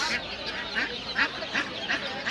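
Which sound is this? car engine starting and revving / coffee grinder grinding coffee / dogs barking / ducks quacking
ducks quacking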